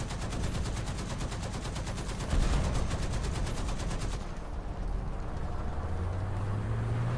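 Rapid, evenly spaced gunfire from a game battle with artillery, a steady automatic-weapon rattle that stops abruptly partway through, leaving a rumbling low drone with a rising engine-like tone near the end.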